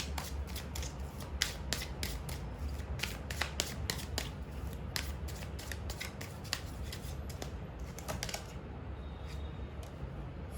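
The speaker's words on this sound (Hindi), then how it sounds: "पहले मैं पूरे कार्ड्स निकालूंगी" Tarot cards drawn from a deck produce a continuous run of crisp slaps and riffling flicks, steady and close throughout with no talking.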